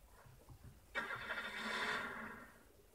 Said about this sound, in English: Matthew, I am driving a tractor